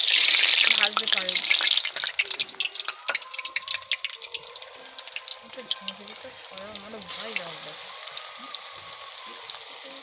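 Round potato and egg pakoras deep-fry in hot oil, a steady close crackle and sizzle with scattered sharp pops, loudest at the start and then easing to a lighter, even fizz.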